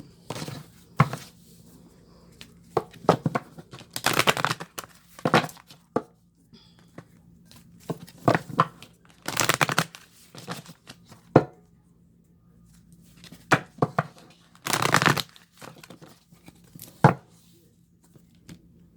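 Quick bursts of tarot card shuffling, riffles and slaps of stiff paper repeating in clusters with short pauses between, close by.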